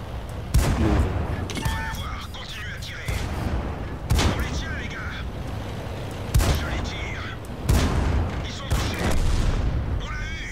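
Tank gun fire in World of Tanks, loud booming shots repeating every couple of seconds with rumbling tails between them, while a voice talks over the action.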